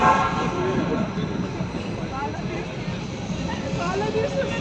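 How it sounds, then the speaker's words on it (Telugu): A train pulls in at an Exchange Place station in New Jersey, a steady loud rumble with rail noise throughout, crowd chatter and voices mixed in close by. "ఆ ట్రైన్ వస్తుంది, పడిపోతావు"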